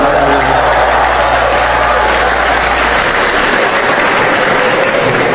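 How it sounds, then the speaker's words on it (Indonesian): Loud, sustained applause from a large crowd, dense and continuous for several seconds with no talking. "Kenapa tepuk tangan ini?"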